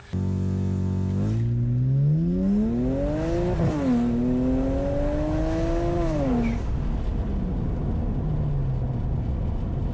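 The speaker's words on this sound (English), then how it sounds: "you'll hear it bog down almost right after I get going" A 600 hp 2010 BMW 335 with the N54 twin-turbo engine accelerates hard, its loud engine note climbing, dipping and bogging down near the middle before easing off. No one speaks.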